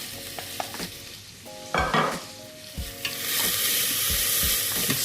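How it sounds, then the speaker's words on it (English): Satay spice paste hitting hot oil in a pan, with a few scrapes and clinks of stirring before a loud, steady sizzle rises and holds close up. "My oil is nice and hot. Get those base spices or pastes into there."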